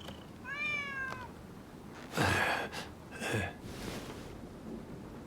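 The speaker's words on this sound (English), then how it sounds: "Who'd have thought a stray cat would wander in?" A stray cat meowing in the video game Rise of the Ronin: one clear, rising meow near the start, followed by two louder breathy gasp-like bursts over a low ambient bed, with no talking.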